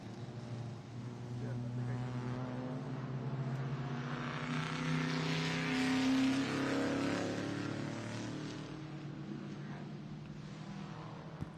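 Race cars including the number 30 Volkswagen and the number 9 Porsche Cayman run at Lime Rock, engines rising to a peak as they pass and fading again, under a commentator's voice.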